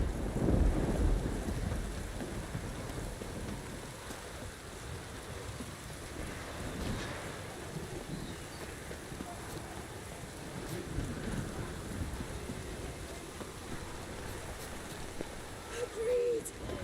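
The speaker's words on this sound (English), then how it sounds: "Storm, damn it." Storm in The Witcher 3 with gusting wind and steady rain, a broad continuous wash of noise with a low rumble, heard under music and game sounds.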